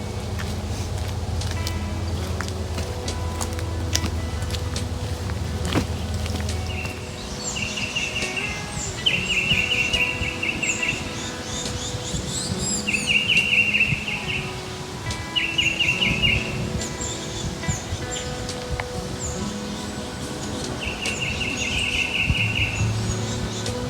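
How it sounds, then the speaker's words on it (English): Birds calling in a forest at Long Hunter State Park, bright repeated chirping phrases recurring every few seconds over a dense background of ambient noise, with a low rumble fading out early on. "Hear the birds? They're talking to each other."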